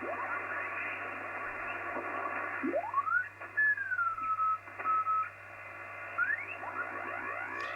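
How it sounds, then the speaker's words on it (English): A shortwave receiver on the 80-metre amateur band hisses with broadband noise and local interference from switch-mode power supplies, while whistling carrier tones sweep up and down as the tuning dial turns, steady and moderately loud. "you can hear the local interference from switch mode power supplies and things"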